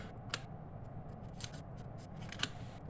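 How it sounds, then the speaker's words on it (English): Scissors snip paper while a small custom gift box is being made, giving three short, crisp cuts spaced about a second apart over a quiet background hum, with no talking. "So I'm just going to cut."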